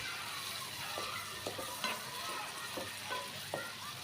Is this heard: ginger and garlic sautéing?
yes